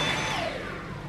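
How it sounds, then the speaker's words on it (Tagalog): A household vacuum cleaner running steadily indoors, a continuous broadband whir that holds close and fairly loud throughout, with no talk over it. "Tapusin ko lang tong vacuum."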